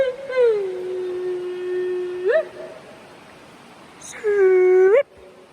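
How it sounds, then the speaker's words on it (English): Inside a natural tunnel in a state park, a person sings out two long sliding, wavering calls to test the echo. Each tone rings clearly and hangs in the enclosed rock space before cutting off. "no tunnel is complete without an echo check"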